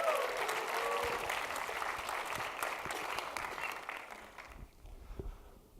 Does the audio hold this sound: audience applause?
yes